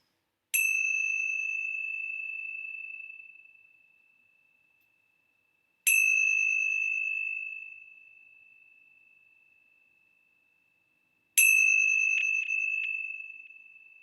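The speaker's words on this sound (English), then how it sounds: "let's begin our time together with the ringing of the bell" Three separate strikes of a meditation bell, each a clear bright ring that sustains and slowly fades over several seconds, spaced about five seconds apart in otherwise quiet surroundings.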